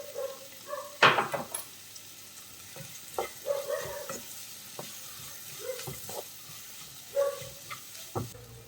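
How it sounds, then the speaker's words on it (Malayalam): Sliced onions sautéing with salt in a pan for a Palakkad-style egg curry, a soft steady sizzle broken by several scraping stirs of a spatula, one sharp clatter early on, close and fairly quiet. "നമുക്ക് കുറച്ച് ഉപ്പും കൂടി ഇട്ടിട്ട് ഒന്ന് വഴറ്റിയെടുക്കാം"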